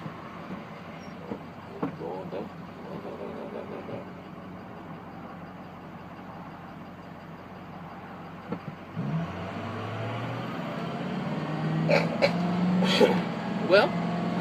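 Road traffic heard from inside a moving taxi cab, a steady low engine and road rumble with a vehicle passing and picking up in the second half, moderately loud with occasional clicks and knocks.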